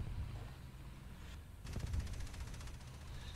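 Faint rapid fire from twin cannons in a video game bursts into a quick rattling volley partway through, a series of sharp repeated shots over low background rumble.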